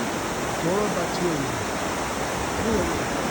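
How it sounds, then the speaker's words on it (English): The Dora Baltea, a small stream with a strong flow, rushes in a steady, loud broadband wash, and a faint voice talks underneath. "This little stream right here is the Dora Battilia."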